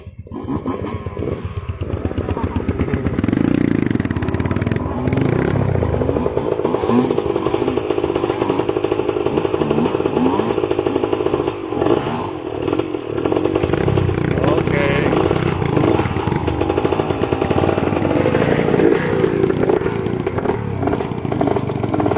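Old-school dirt motorcycle, a genuine vintage Suzuki RM two-stroke, revving loudly and continuously up close, its raspy engine note rising and falling throughout with brief voices mixed in.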